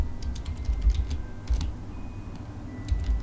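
Quick bursts of clicky keystrokes on a computer keyboard, typed in uneven clusters with short pauses, close and fairly soft over a low room hum.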